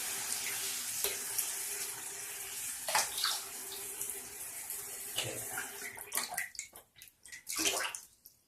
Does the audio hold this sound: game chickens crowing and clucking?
no